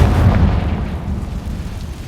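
A Confringo fire spell detonating in the Hogwarts Legacy game, a loud, rumbling, booming explosion that stays heavy and sustained through the whole short stretch before easing slightly.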